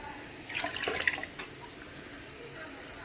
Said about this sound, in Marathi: थोडंसं पाणी घालते अजून त्यात, तेवढं पाणी पुरेसं होणार नाही शिजायला